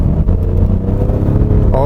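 The V6 diesel engine of a 2020 Kia Mohave SUV revs up hard in sport mode on a winding road, a steady rising drone heard from inside while someone talks over it.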